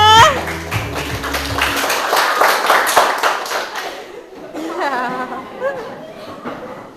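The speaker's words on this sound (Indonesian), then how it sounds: "Ya, tepuk tangan semuanya." Students clap together in a classroom, a lively patter of many hands for about four seconds, then the clapping stops and people chatter and talk.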